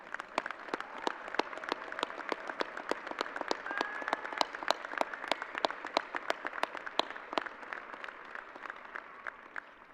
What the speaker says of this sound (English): please stand for a round of applause for a job well done